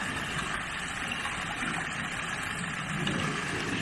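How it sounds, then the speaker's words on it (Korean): Steady broadband rush of a small stream flowing through a mountain valley beside forest land at about 600 m elevation, trickling continuously at close range with no talk over it. "모든 필지에 붙어서 졸졸졸 흐르고 있습니다."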